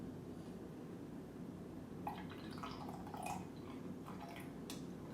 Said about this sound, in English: Pour it all in and straight away I start stirring